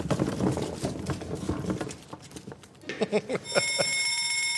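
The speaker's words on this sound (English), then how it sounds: "When you hear the hammer alarm, you know what that means" A ringing alarm sound effect in a kitchen, starting with clattering taps and then turning into a steady bright ring that holds to the end, fairly close.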